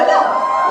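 Theater audience at a community comedy skit breaks into applause and cheering, a dense, steady wash of sound close by for under a second with no talk over it.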